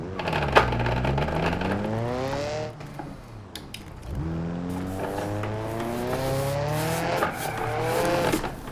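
Simulated car drifting at high revs in BeamNG.drive, the engine note rising and falling through sweeping harmonic pulls with tire squeal, loud and continuous over about eight seconds with a brief dip midway.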